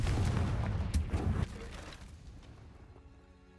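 A Confringo blasting spell erupts in Hogwarts Legacy as a loud, booming burst with a sharp crack near the start, then rumbles and fades over a few seconds into quieter game ambience.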